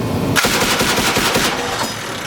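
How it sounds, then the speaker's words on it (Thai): A loud, close machine-gun burst from marines' test firing of rounds, a continuous rapid string of shots lasting about a second before trailing off into echo. "พร้อมแล้ว เริ่มยิง ยิง"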